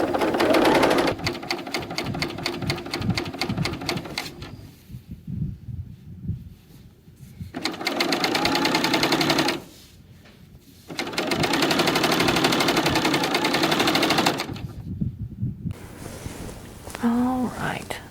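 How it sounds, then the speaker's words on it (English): Serger overlocking a garment seam near a neckline, running in several fast whirring bursts of a few seconds each, separated by quiet pauses, close and clear with faint talk between. "I'm just going to serge for a minute"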